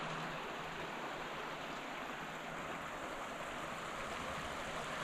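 Steady broadband rush of a flowing creek heard from a roadside vantage point, continuous and fairly loud with no breaks or voices.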